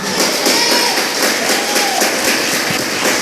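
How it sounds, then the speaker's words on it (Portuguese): Church congregation applauding during a worship service, a loud, sustained wash of many hands clapping close by, with faint voices mixed in. "Aplauda a Cristo com muita alegria."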